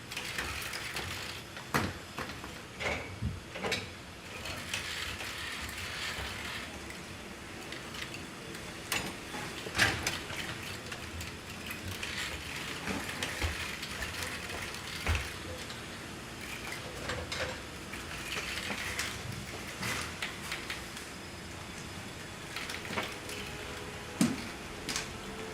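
A Neo humanoid robot loading items into a dishwasher, heard as faint, scattered mechanical clicks, ratcheting ticks and small knocks spread over a long stretch of quiet room tone.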